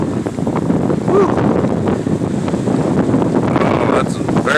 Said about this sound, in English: Oh, that's a very hefty gust.